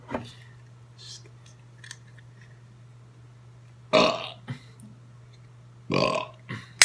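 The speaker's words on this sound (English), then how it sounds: "Pre-drink burp." A person burps loudly before drinking a 9% imperial stout, with two short, rough belches a couple of seconds apart and faint room noise between them.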